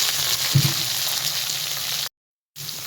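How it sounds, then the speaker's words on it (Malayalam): Chopped shallots sauté in hot oil for a Kerala beef curry, a steady close crackling sizzle with a small knock near the start, broken by a short gap of silence before the frying resumes. "ഇനി ഇത് നന്നായിട്ട് എണ്ണയ്ക്കകത്തിട്ട് വഴറ്റിയെടുക്കുക"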